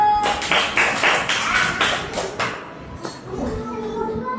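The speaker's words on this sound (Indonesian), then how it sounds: "Silakan tepuk tangan untuk kelompok 1." Schoolchildren in a fifth-grade classroom clap their hands in quick rhythmic bursts, close and fairly loud, with a few claps trailing off before a short lull.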